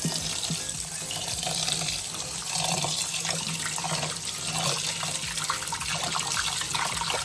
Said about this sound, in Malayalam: ചോറിൻ്റെ വെള്ളം തളിച്ചു ഈ അരി ഇനി കഴുകാം